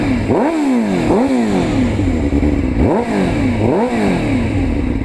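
A 600cc motorcycle engine revs up and down in repeated high-pitched bursts, loud and close, with a steady idle rumble between pulls.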